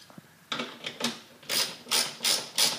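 A socket wrench with a 13mm socket ratchets while tightening a bolt on a 2012+ Ford Focus hood lift, giving about seven sharp clicking strokes in a quick, even rhythm, close by.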